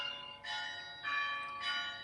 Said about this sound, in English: maybe you hear a bell ringing